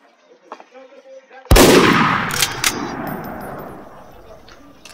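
A single sharp, loud sniper-rifle shot in Garry's Mod cracks suddenly, then a long rumbling echo fades away over several seconds, with faint talk before it.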